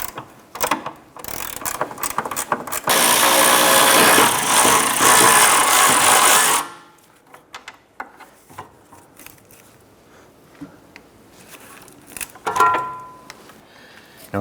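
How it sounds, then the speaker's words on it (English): A nut on a rear sway bar link of a 2006-2013 Chevrolet Impala is spun off with a power tool, giving a loud, steady mechanical whir for several seconds, then sparse clicks and faint handling noises. "Go ahead and remove this nut."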